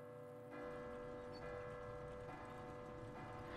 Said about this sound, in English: of course the bell is just gonna drunkenly Gary Busey some shit out the way